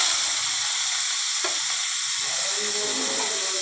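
Bathua greens hit hot oil in a pan with a loud, steady sizzle and fry that holds throughout, with a faint stir partway through and no voices.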